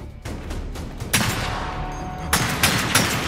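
Single-fire gun shooting in the Gears 5 video game, a few loud separate shots with ringing tails over a dense background of game action.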